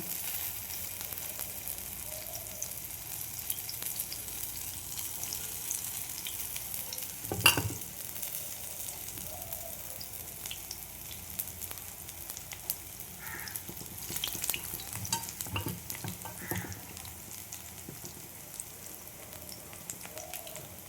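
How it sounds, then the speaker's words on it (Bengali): Prawn fritters fry in oil over a low gas flame, giving a faint, steady sizzle with soft crackles and one sharper clatter partway through. "এইভাবে সব বড়াগুলো আমি ভেজে নেব।"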